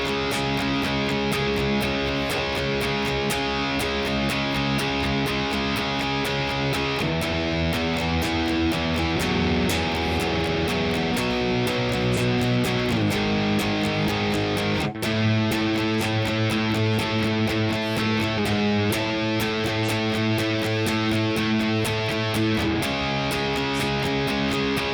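Distorted electric guitar plays a verse riff at a slowed practice tempo, with steady dense chords and changing notes on the top strings, loud and continuous for the whole stretch.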